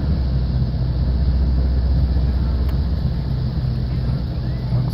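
A Toyota Tundra engine runs at a steady idle after being started, a dense low rumble that holds even and continuous throughout with faint wind noise over the microphone.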